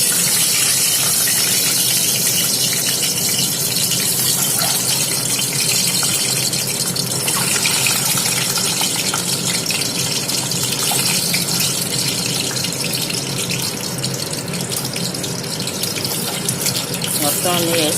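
Cool water pouring steadily from a tap over boiled eggs in a kitchen, a loud continuous gush filling the whole stretch, with occasional background voice underneath.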